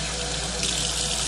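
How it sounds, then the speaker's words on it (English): Tap water running steadily over an egg held under a kitchen faucet to wash it, a loud continuous splashing stream with no pauses and no voices. "I just run a little water on it"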